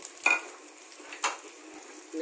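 Red chillies and garlic cloves fry in a pan for a dosa chutney, with a soft steady sizzle broken by two brief stirring clinks, heard close and without talk.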